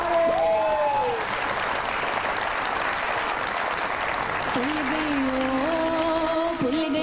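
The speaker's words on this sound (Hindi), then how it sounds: "आप सब लोगों की भरपूर तालियों में the real one and the real only legend of Pakistani acting, Bushra Ansari साहिबा" A studio audience on the Mazaaq Raat comedy show welcomes actress Bushra Ansari with sustained, loud applause, while a musical tune plays alongside the clapping throughout.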